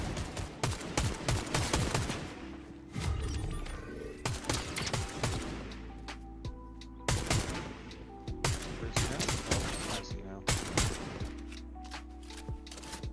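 Rapid automatic gunfire from a shooter video game lays down suppressing fire in loud, repeated bursts and rattling volleys, with sharp individual shots overlapping throughout.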